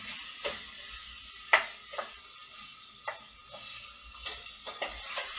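Onions and garlic cooking in a pan for an herb ratatouille, with a soft, steady sizzle under a series of sharp spoon taps and stirring scrapes, near and fairly quiet, with no talking.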